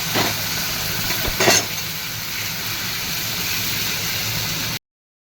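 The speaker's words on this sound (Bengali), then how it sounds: "আর এবারে কড়াইতে দিয়ে দেবো টমেটো, কাঁচা লঙ্কা, আদা আর চারমগজ বাটা।" A paste of tomato, green chilli, ginger and melon seeds sizzles in a wok with a steady close hiss, punctuated by two brief louder splutters early on, before the sound cuts off abruptly.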